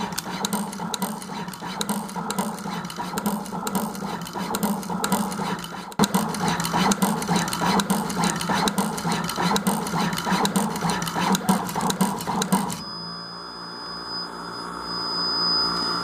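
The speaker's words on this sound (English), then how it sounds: "And you can see that the machine moves in full speed." A NeoDen TM-240A automatic pick and place machine runs at high speed, giving a loud, steady mechanical whir with rapid rhythmic clicking and buzzing that cuts out near the end, leaving a faint hum.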